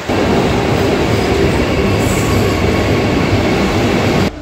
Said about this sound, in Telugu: మన బండి వచ్చేసి కేరళ సూపర్ ఫాస్ట్ ఎక్స్ప్రెస్.